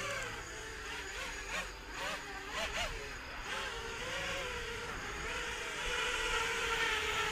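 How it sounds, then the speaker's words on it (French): A Flywoo Macaw full-titanium FPV drone lifts off about a metre and a half above the ground outside a house, its motors giving a steady whine that rises in pitch as throttle increases, continuous and close. "J'ai juste fait un petit décollage devant chez moi, à 1m50 du sol, voir s'il décollait."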